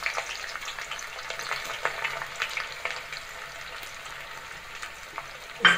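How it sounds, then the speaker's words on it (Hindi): Green chillies and onion hit hot oil on high heat for a dhaba-style bhindi fry, giving a steady close sizzle and crackle with small spatters throughout, no voices, and a brief louder clatter at the very end. "अब मैं इसमें हरी मिर्च डाल रही हूँ और अब मैं इसमें प्याज डाल दे रही हूँ।"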